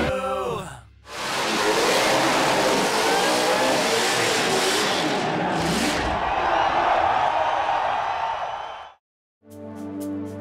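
Some 300 cars in a street parade at Red CentreNATS in Alice Springs: a loud, sustained roar of engines revving and accelerating with crowd noise beneath, dropping out briefly near the end.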